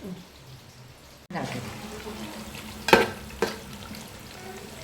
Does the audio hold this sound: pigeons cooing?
no